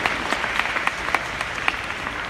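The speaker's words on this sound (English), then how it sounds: "Give yourself a round of applause" Steady applause from a room of Beachbody coaches at a seminar, a dense wash of clapping with distinct sharp claps standing out, sustained for the whole stretch.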